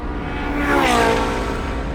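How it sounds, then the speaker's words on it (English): A Ferrari 458 Challenge race car on slick tyres roars down a racetrack's front straight, a loud, sustained engine note that swells and shifts in pitch as it passes. "coming down the front straight here, the amazing sound of this car"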